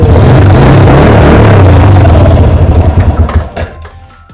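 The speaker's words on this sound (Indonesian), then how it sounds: "Sekarang kita cek starternya." A motorcycle's electric starter is tested and the engine catches, running loud and close with a busy mechanical clatter before cutting off and dropping away near the end.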